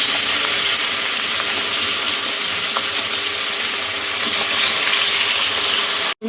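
Onions fry in hot oil with a loud, steady, close sizzle and hiss that runs unbroken for about six seconds, with faint stirring clicks and no talk over it, then stops abruptly.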